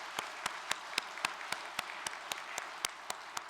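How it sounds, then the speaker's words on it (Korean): Church congregation clapping together in steady unison, sharp evenly spaced claps about four per second, loud and close, over a soft background wash. "참 어머님께 큰 감사의 박수를 올려주시기 바랍니다"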